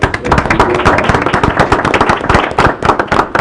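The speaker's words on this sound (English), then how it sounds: "So let's give them a round of applause." Loud, dense applause from a large audience honoring award-winning students at a school board of education meeting, steady clapping that fills the room throughout without a break.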